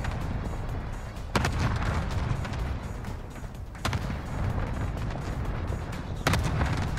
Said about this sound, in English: Oh, you got an airstrike coming in.